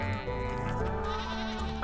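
A goat bleats in the farming game Stardew Valley, one drawn-out, wavering bleat lasting nearly two seconds, loud and close over a steady tonal background.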